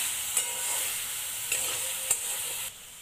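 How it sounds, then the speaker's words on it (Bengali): Bottle gourd and tomato being stirred with spices in a pan, a steady close sizzle with a few light spatula scrapes. "মশলার সাথে ভালোভাবে নেড়েচেড়ে মিশিয়ে নেব।"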